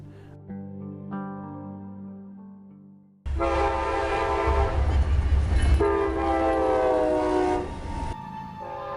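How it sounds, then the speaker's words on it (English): An Amtrak train's horn blasts loud and close in a long sustained chord with rumbling rail noise beneath, preceded by softer tonal sounds and ending abruptly. "The engineer started blowing the horn"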